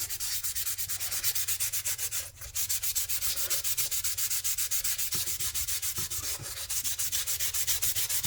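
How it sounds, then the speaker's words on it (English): A very fine grit abrasive pad sands an acoustic guitar neck during a broken neck repair, producing quick, evenly repeated rubbing strokes that are close and steady, with no voices. "Then I go back over it with a very fine grit"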